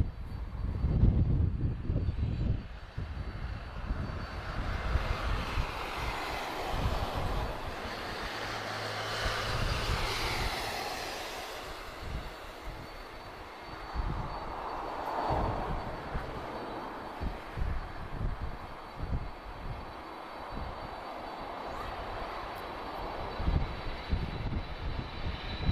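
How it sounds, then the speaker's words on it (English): Two General Electric CF6 turbofan engines on an airliner roar steadily from a distance, a broad, sustained rumble and whoosh that swells and fades over about half a minute with no talking. "Let's get the sound of two CF6 engines."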